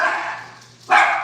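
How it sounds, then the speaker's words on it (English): Dogs barking at a farmhouse animal sanctuary, two loud, close barks separated by a short pause. "My dogs are barking."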